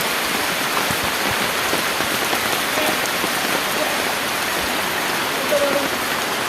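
Heavy rain pours steadily with a broad rushing wash of water during flooding in the Kakkadippuram area, a dense continuous roar without pauses and no voices.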